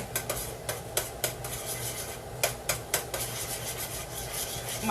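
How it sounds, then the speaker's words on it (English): A utensil stirs a lemon-juice glaze in a pan while guava rosemary glazed chicken is cooked, giving repeated scraping clinks against the metal in an uneven rhythm, close and clear over a low background hum. "And then we're going to stir some more here."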